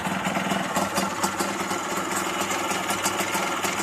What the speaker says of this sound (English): The idle is pretty lumpy